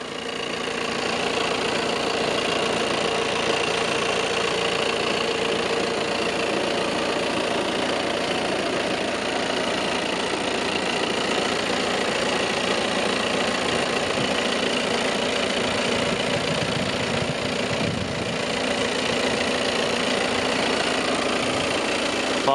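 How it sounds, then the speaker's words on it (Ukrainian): A two-liter, 190-horsepower diesel engine in an Audi A4 Allroad idling steadily at close range, a continuous low rumble with a mechanical clatter, unbroken for the whole stretch. "Двохлітровий дизельний мотор потужністю 190 кінських сил, встановлений повздовжньо в Ауді"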